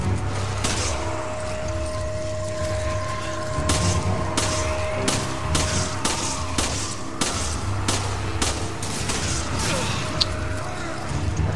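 Bombs exploding in Resident Evil 5, a run of sharp booms and crashes scattered through a constant loud background of game noise, spaced irregularly across several seconds.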